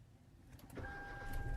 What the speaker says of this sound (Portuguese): piso no freio para que o motor dê partida